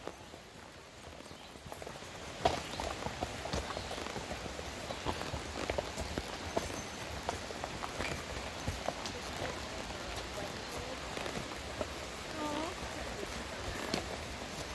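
A horse on a trail ride sets down its hooves in a steady run of clip-clops over rough ground, with a close, rustling outdoor backdrop and now and then a faint voice.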